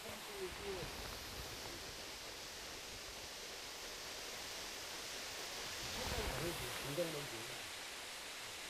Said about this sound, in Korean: 20m 높이의 절벽에서 쏟아져 내리는 이 거대한 물줄기를 우러러 보다가